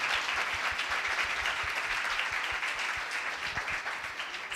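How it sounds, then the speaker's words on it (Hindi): Congregation clapping loudly and steadily at a church service, a dense continuous wash of many hands with little talk over it. "खुदा के जलाल के लिए जोरदार तालियां बजाएं।"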